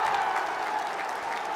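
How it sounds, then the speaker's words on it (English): A short burst of applause from a small group, steady and moderately distant, with no talking over it. "Round of applause."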